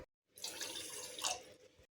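A steady stream of water pours into a saucepan holding sugar for syrup, a close, fairly soft splashing rush lasting about a second and a half, with no talk.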